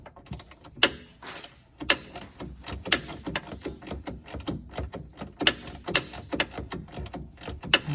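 Rapid ratchet clicks from tightening the drawer system mounting posts inside an Ineos Grenadier, a dense run of close, sharp mechanical clicks and knocks over about eight seconds with brief pauses between bursts.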